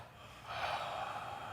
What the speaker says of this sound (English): 3 exhales now from that point